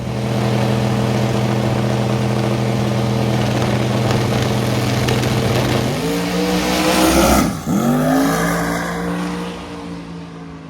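The Blasphemi drag race car makes a pass at Drag Week, its engine holding a loud, steady droning idle before climbing in a revving surge with tire squeal, then fading as it pulls away.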